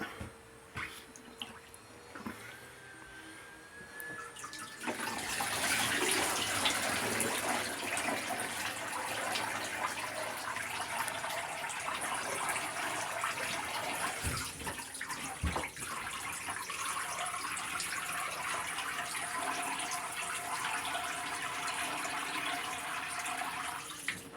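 Tap water runs steadily over a salt-cured beaver carcass after a 24-hour salt bath. A few faint drips come first, then a loud, continuous gush of water with no voices.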